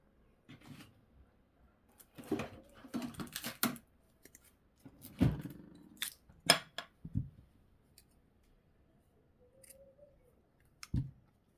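Scissors snip through crochet yarn in a quiet room, a few soft close cuts and clicks with small handling noises between them and long near-silent gaps.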